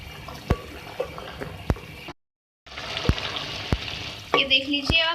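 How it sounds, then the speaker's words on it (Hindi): Beef keema with spices, onion, tomato, water and oil simmers and sizzles in a pan, with steady bubbling, several sharp clicks of a utensil, a brief gap, then a spattering burst near the end. "ये जो कीमा है ये कुक हो रहा है"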